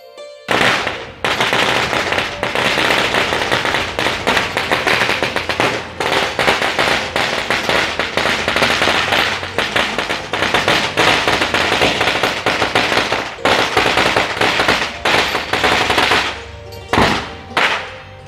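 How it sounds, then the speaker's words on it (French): Loud firecrackers set off inside a chimney at Wat Chalong temple in Phuket, Thailand, popping in rapid continuous bursts like gunfire for most of eighteen seconds, with a brief pause near the end before a few final bangs. "ils font exploser des pétards qui sont assez forts dans cette cheminée"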